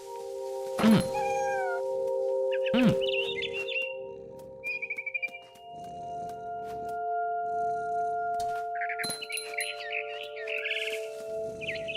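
Cat meowing in the video game What Remains of Edith Finch: two loud, close meows in the first few seconds, then quieter bird-like chirps and twitters follow over a humming tonal game backdrop with no talking.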